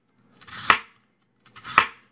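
A knife slices thin rounds of raw lotus root on a cutting board: two separate, crisp chopping strokes about a second apart, each a short swell that ends in a sharp thunk against the board, close and clear with no talk.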